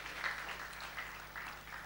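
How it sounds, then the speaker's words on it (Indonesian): A church congregation applauds together after being asked to stand and clap for God, a steady, moderately distant wash of clapping that holds evenly for about two seconds with small swells. "tepuk tangan yang keras buat Tuhan"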